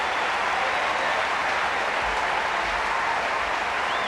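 A tennis crowd applauds steadily after a point at the 2000 Cincinnati semi-final between Henman and Kuerten, with loud, dense clapping that fills the whole stretch and no voices over it.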